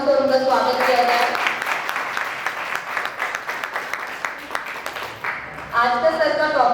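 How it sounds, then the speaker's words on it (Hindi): An audience applauds to welcome two doctors as resource persons at a caregiver training session, a steady wash of clapping with sharper individual claps, bracketed by a host speaking before and after. "जोरदार तालियों से उनका स्वागत किया जाए।"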